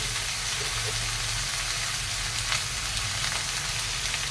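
Panch phoron spices and curry leaves hit hot oil for a vegetarian curry, making a loud, dense and continuous sizzle that stays close and even throughout, with no voices over it.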